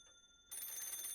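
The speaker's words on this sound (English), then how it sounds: "Oh, the phone." In the video game PARANORMASIGHT, a telephone rings with a bright electronic trill that kicks in sharply after a quiet start and holds steady, clear and close.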